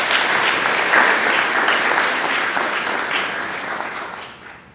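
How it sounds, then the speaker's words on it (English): Dense, steady applause from the audience at a school board meeting honoring student athletes, a full wash of clapping that continues throughout and tapers slightly toward the end. "Let's give him another round of applause."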